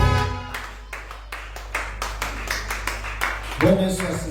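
A church congregation claps together for Jesus Christ in steady, fairly loud rhythmic claps, about two or three per second, over a sustained low musical drone, with a louder burst near the end.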